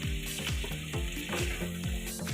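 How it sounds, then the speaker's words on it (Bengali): Strips of beans, papaya, carrot and potato frying lightly with salt in a pan for a chicken stew, a steady close sizzle with music running underneath, no one talking. "আমি কয়েকটা সবজি লম্বা লম্বা করে কেটে নিয়েছি, বিনস, পেঁপে, গাজর আর আলু দিয়ে দেবো। লবণ দিয়ে হালকা ভাজা করে নেব।"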